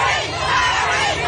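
A large outdoor crowd of thousands in Victoria cheers and clamors while greeting the Duke and Duchess of Sussex, a dense, continuous wash of voices heard briefly.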